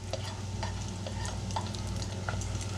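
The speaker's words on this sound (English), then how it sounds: "Frying up bacon" Bacon sizzles and frys in a pan with a steady crackling hiss, punctuated by small pops and spatters, close and continuous with no talking.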